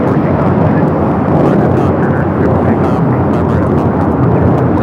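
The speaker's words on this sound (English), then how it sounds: "This takeoff is Alaska SkyWest 9320 off to Manzanillo on the E175." An Alaska SkyWest Embraer E175 regional jet takes off at Los Angeles airport, a loud, steady broadband jet roar that fills the whole stretch without letup.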